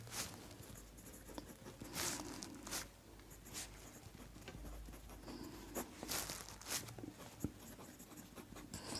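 Faint scratching of a pen writing out a maths solution for a class 10 NCERT exercise, in short irregular strokes with small taps and paper rustles, close and quiet.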